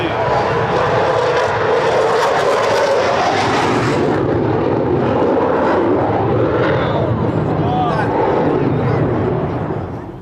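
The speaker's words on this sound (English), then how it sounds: "I give you Royal Air Force Typhoon" A Royal Air Force Eurofighter Typhoon's loud jet engine roars continuously, swelling as it passes close overhead, with a dense rumbling wash that eases slightly toward the end.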